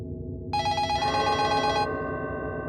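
A telephone in a rental cottage rings with a bright, sustained electronic trill over a low hum, loud and close, the tone cutting off partway through while the hum continues.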